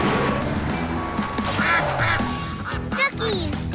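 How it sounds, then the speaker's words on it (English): Cartoon ducks quack repeatedly in quick, bright bursts over background music, with a short thump near the end. "Aw, those little ducks really like their new home."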